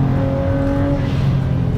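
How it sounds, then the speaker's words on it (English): A built 2011 BMW 335is turbo with 3-inch downpipes into a single 3.5-inch exhaust and a 5-inch resonator, revving with a loud, steady droning engine and exhaust tone, close by and without talk. "that makes all the good turbo sounds"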